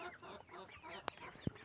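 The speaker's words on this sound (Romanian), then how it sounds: "Am și cocoș moțat, adică cocoși moțați mulți" Crested roosters and chickens cluck softly and faintly in a brief, low-level stretch, with a couple of short sharp sounds near the end.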